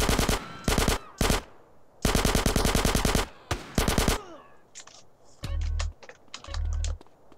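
Rapid bursts of automatic gunfire during a gang gunfight in GTA San Andreas, loud repeated volleys broken by short pauses, followed by sharper scattered single shots and low thumps.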